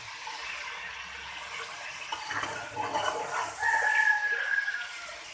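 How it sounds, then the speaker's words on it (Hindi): Roosters crowing outdoors during a home cooking session, with several crows layered and overlapping at moderate distance, including a long, loud call near the end, over a background of faint clucking and running water. "आज तो मुर्गे बहुत बोल रहे हैं,"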